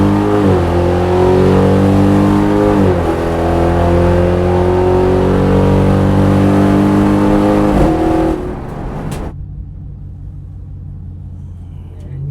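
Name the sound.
392 Hemi car accelerating down a drag strip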